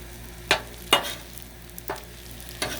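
Shrimp fried rice stirred on a Blackstone flat-top griddle, four distinct metal spatula scrapes and taps at uneven intervals over a soft steady background sizzle, close by with no talking.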